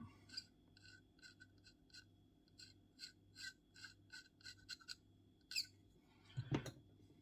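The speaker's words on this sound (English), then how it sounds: "You can start off by scraping it." Quiet, close rasping scrapes along the seam of a 1/48 plastic model aircraft canopy, repeated in short rhythmic strokes, ending with a couple of sharper scratches.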